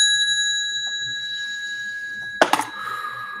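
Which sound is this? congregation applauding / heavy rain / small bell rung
small bell rung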